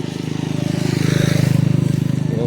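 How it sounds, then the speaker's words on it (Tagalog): Steady, close motorcycle engine drone with a fast pulsing rhythm, loud and continuous throughout, as a motor rides along a rural road. "Yung mga motor."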